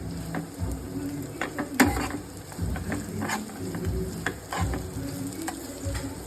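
Carrots, peas and onion fry in a pan for chicken fried rice, a continuous sizzle broken by repeated clattering scrapes of a spoon stirring them back and forth, close and fairly loud.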